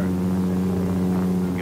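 A Douglas SBD Dauntless dive bomber's radial engine revs steadily for takeoff, a loud continuous droning hum with a strong low tone that holds constant throughout, with no voices.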